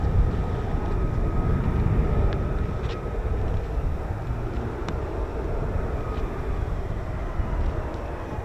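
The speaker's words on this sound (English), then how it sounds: "Just trying to work out if that's an F-35" An F-35 fighter jet flies overhead, a loud, continuous low roar that holds steady throughout, with faint clicks over it.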